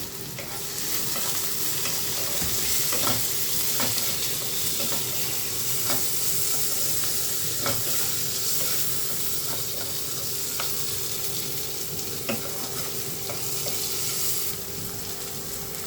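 Tomatoes sizzle and fry steadily in a pan with salt, a continuous close crackle broken by regular clicks of stirring, with no talk.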